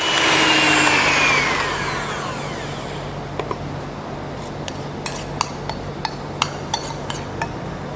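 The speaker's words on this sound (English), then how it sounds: "we blend it again until smooth" A blender working a chocolate ice cream mixture whirs loudly, then its motor winds down over a few seconds, followed by a string of light clinks and taps from utensils against the jar or bowl.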